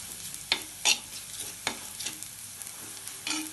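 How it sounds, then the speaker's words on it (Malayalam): Onions fried with turmeric and chili powder are stirred in a pan for a drumstick stem thoran, giving several distinct scraping strokes over a faint, steady sizzle, with no voices. "ഇനി ഒന്നുകൂടി നന്നായി ഇളക്കി കൊടുക്കുക."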